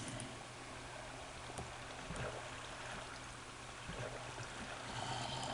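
Water streaming and trickling steadily as a player floods an area in Minecraft, a continuous broadband wash at moderate level with faint clicks, no talk.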